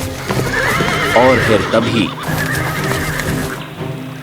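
Animated horses neigh in wavering whinnies while hooves clip-clop during a friendly race, with a narrator speaking over the sounds and music beneath.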